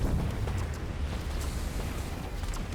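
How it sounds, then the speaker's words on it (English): A beam attack explodes in a real-time strategy battle game, a loud, dense, continuous rumbling roar that holds steady with no break. "The explosion."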